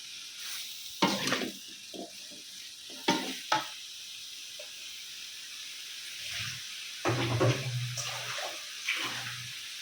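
Broccoli being rinsed in a bowl of water and stirred by hand, soft sloshing and splashing with a few sharper clinks and intermittent low swirling water sounds, close and moderate.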